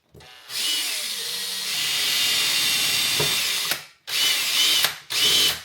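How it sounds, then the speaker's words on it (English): A power drill whines loudly in a long continuous burst drilling a pilot hole for Land Rover Defender headlight guards, then stops and restarts in two shorter bursts, close by. "Pilot drill, let's give it a go."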